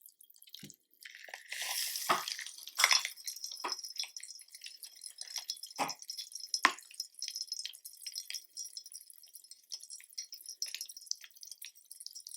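A chemical reaction in room-temperature water, fizzing with a burst of hiss and then scattered sharp little pops and bubbling crackles, faint and close, with no voices.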